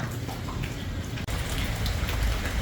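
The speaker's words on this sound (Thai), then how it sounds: "ตอนนี้ฝนก็เริ่มหยุดแล้วนะคะ" Steady rain falls outside a house, a dense close patter of drops on surfaces with a brief break partway through and no talk.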